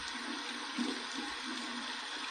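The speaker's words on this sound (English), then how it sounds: "we're going to go ahead and use the alum block here and run this under some cold water" An alum block is rinsed under a steady stream of cold tap water, a continuous close rush of running water with small splashing fluctuations and no talking.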